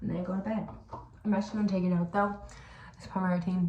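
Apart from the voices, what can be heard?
No everyday noise stands out behind the speech.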